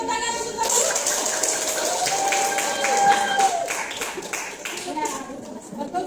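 Students in a classroom give a classmate a round of clapping, scattered hand claps running steadily under a teacher's voice and children's chatter, moderately close and fairly soft.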